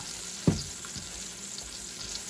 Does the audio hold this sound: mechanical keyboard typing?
no